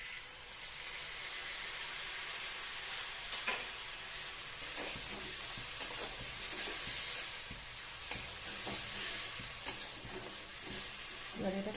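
Cumin, black pepper and dry red chilli paste frying in oil for an egg and potato curry, a steady close sizzle with a spoon stirring and scraping through it, no voices.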